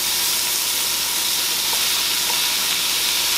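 Onions and partly frozen green pepper frying in a pan give a steady, close hiss and sizzle that holds evenly throughout, with faint soft stirring clicks and no voices.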